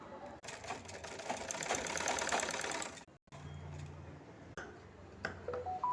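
A sewing machine runs in a steady fast whir while stitching cloth, stopping briefly partway through before starting again, close and moderately loud.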